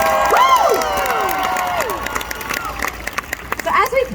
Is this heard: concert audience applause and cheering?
yes